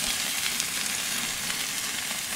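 Loud, continuous sizzling and crackling of steak cooking on a grill over a chimney starter, steady and close throughout.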